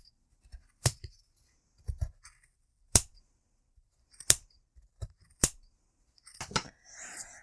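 Scissors snipping through yarn wound around a cardboard pom-pom maker, a handful of crisp, close cuts spaced about a second apart, with a faint rustle of handling at the end.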